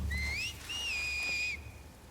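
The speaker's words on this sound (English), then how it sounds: "Because I hear the whistling." Enemy whistling in The Last of Us Part II: two clear rising and held whistled notes, near and fairly loud, over a low rumbling game background with no talk.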